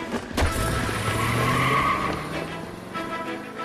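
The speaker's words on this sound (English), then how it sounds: "Oh, this is a fast car, isn't it? It's a sports car." A sports car in LA Noire skids with loud, sustained tire squeal over a revving engine, holding close and steady for a few seconds before easing off.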